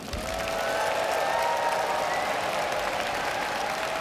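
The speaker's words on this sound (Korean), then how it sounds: "우리 함께 모두 큰 박수를 쳐주시기" A crowd applauds at a political rally in Korea, sustained loud clapping blending into a continuous wash of sound, with a faint tonal whine running underneath.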